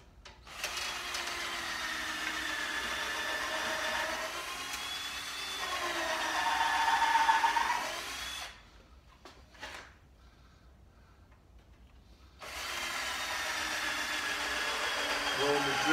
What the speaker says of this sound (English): Drill some holes over here.